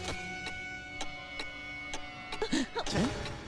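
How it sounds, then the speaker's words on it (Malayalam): A clock ticks steadily at about two ticks per second, crisp and fairly quiet, with faint background tones and a couple of brief vocal sounds near the end. "ഇവിടെ ഒരു ടിക് ടിക് ടിക് ശബ്ദം കേട്ടല്ലോ"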